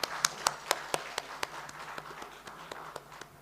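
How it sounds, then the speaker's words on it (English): Conference audience at a clinical pathology meeting in Nepal claps to close a panel discussion: a modest round of individual hand claps, a few sharp ones at the start, then thinning and fading over a few seconds. "close this panel discussion with a big round of applause to all our panelists"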